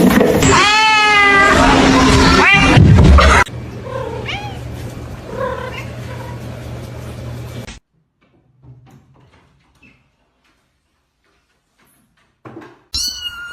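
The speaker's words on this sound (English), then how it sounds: "Meow." A cat lets out several drawn-out, wavering meows up close and loud, followed by quieter cat vocalizations, then near silence and a brief sharp sound at the end.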